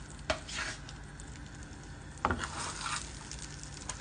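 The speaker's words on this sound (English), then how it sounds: "Now it's time to fry the patties." Vegan burger patties frying in a large greased skillet over medium-high heat, producing a soft, steady sizzle with two sharp utensil clacks as they are handled, quiet and with no talk.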